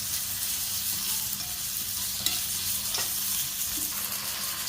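Tomatoes and onions sauté in a pan for chicken varuval, with a steady, close sizzle and faint stirring scrapes running throughout and no voices.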